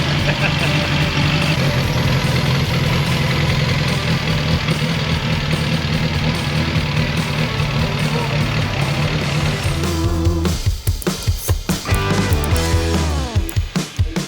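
An old motorcycle engine running with a steady rumble at the KOP Hillclimb in England, then sputtering and revving unevenly near the end, with people talking over it.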